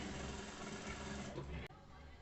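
A sewing machine runs steadily, stitching the final seam while attaching a zipper to a diaper bag, with a continuous whirring hum that cuts off abruptly near the end.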